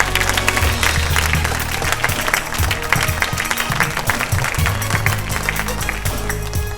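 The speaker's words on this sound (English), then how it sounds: "Let's keep the applause going." A quiz show audience applauds vigorously and continuously, many hands clapping at once, with some noise and voices mixed underneath.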